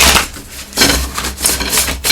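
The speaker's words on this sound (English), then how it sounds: "And let's get one more shuffle here." A deck of Ask Your Guides Oracle cards by Sonia Choquette being shuffled, close papery riffling and slapping in several uneven bursts with no one speaking.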